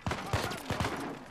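Gunfire from the video game Uncharted 4 comes in several sharp, spaced bursts at moderate volume, with a low game soundscape between them.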